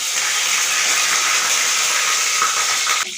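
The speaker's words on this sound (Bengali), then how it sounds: "এবার কড়াতে কিছু তেল দিয়েছি হুম দিয়ে ওর মধ্যে দুটো তেজপাতা দিয়েছি" Two bay leaves sizzle in hot oil in a wok, giving a loud, steady hiss that runs unbroken for the whole stretch and eases slightly at the very end.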